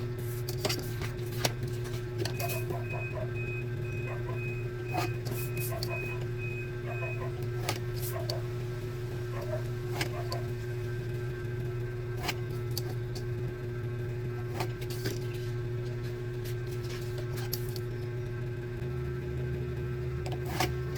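A printer runs steadily, putting a paper bag pattern onto paper, with a constant mechanical hum and scattered clicks and ticks over about twenty seconds, close and fairly quiet.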